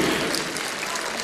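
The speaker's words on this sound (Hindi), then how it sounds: "मेरे उन बच्चों के लिए एक ताली जरूर आप तो तरफ से हो" Dense clapping from an audience at an event, a continuous even roar of many hands, loud and close for a brief moment without talking over it.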